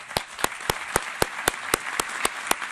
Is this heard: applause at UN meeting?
yes